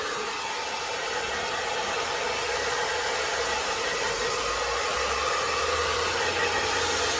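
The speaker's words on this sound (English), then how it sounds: "Keeping the hairdryer quite a way away will also help" A hair dryer blows continuously while a Cockapoo is groomed, a loud, steady rushing hiss with a low motor hum underneath and no pauses.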